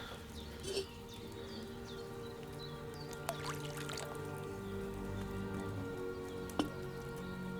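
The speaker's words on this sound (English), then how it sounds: "So, what did you pour in there? Wine, of course." Wine poured into an alchemy cauldron in Kingdom Come: Deliverance II, a soft continuous trickling pour with a few faint drips and small clinks over a quiet background hum, no talk.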